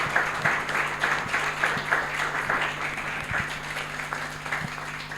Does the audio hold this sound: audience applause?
yes